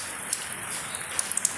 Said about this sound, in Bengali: বাইরে দেখো বৃষ্টি পড়ছে প্রচণ্ড